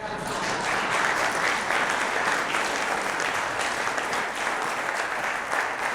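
A thunderous round of applause from a conference audience after an oil and gas talk on frac hits, broad and sustained clapping from a large crowd with steady loudness, no voices standing out.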